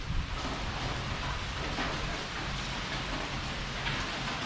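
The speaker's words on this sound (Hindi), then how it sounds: "बारिश अभी भी फुल टू चालू है" Heavy rain keeps pouring in a loud, unbroken hiss that holds steady throughout with no pauses.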